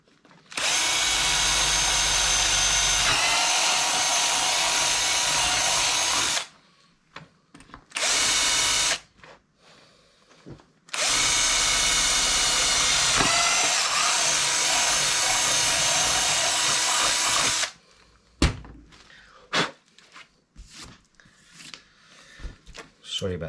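Power drill boring holes to mount a 360 Only carbon harness mount, two long loud whining runs and a short burst between, followed by quieter handling clatter and clicks.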